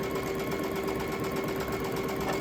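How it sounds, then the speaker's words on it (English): A sewing machine stitches a 1/4 inch seam along two quilt block units, a steady fast mechanical hum with a constant tone, close and continuous, with no voices. "back to sewing my 1/4 inch seam along those two units"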